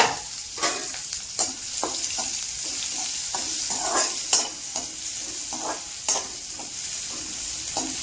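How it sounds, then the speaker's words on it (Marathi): Onion fries in oil with cumin, mustard seeds and garlic, a steady sizzle broken by repeated scraping stirs of a spoon against the pan, close and fairly quiet, with no voices. "कांदा टाकून घेतलाय."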